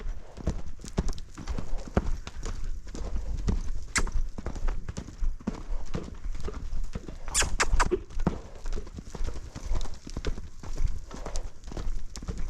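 Hooves of a galloping horse beat out a steady, rhythmic clip-clop that continues throughout, close and clear over faint ambient noise.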